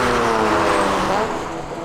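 Honda Civic Type R race car at Road Atlanta, engine roaring steadily and loud at close range, then easing slightly toward the end, with no talk over it.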